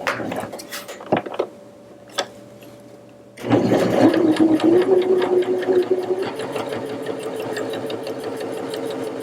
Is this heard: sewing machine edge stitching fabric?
yes